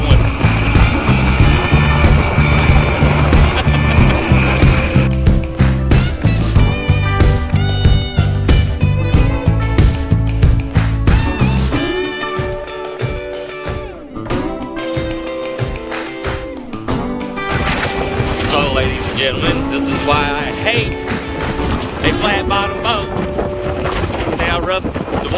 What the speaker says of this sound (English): flat bottom boat doesn't do well in rough water